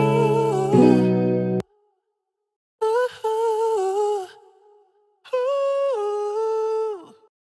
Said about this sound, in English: So I actually have this vocal chop that is actually already in key.